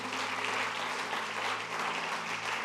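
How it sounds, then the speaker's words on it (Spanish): A church congregation claps steadily at a service, a dense, even wash of applause lasting a few seconds, close and fairly loud, with no voices over it. "Le podemos dar un aplauso al Señor,"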